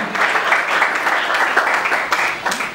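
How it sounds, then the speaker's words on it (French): Loud, sustained applause from a crowd, a dense wash of clapping holding steady throughout. "Oui, vos acclamations s'il vous plaît."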